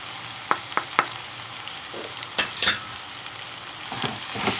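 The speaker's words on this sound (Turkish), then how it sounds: "Yaklaşık 5 dakika kavuruyoruz salçasını." Steady, close sizzling of tomato paste frying in a pan, with a few sharp clinks and scrapes of stirring now and then.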